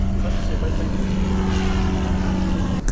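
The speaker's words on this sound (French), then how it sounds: "là, on a un bel avion qui passe juste au-dessus de nous" A propeller airplane passes overhead, a steady loud drone with a low engine hum throughout, heard outdoors near a parked BMW 330d E92, ending with a brief sharp knock.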